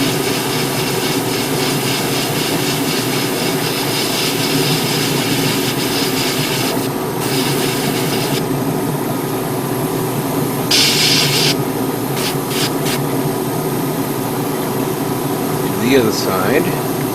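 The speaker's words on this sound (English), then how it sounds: "let me just do a control spray" A steady hiss of spray paint comes from an airbrush or spray setup used as a control test while painting a red Master Grade 1/100 Gunner Zaku Warrior model kit, close and continuous with brief breaks in the spray.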